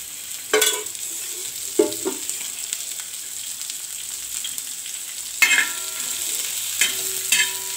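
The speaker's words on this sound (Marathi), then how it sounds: "कांदा भाजून घेऊया।" A medium-sized onion frying in a little oil in a pan, a steady soft sizzle punctuated by several sharp bursts of stirring and scraping, close by with no talking.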